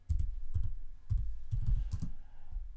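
Computer keyboard typing a MySQL drop command at a command line, a close, steady run of clustered keystrokes with short pauses, heard alone without talk.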